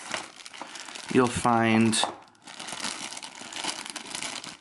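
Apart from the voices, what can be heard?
opening crinkly packaging of bendable Bowtruckle toy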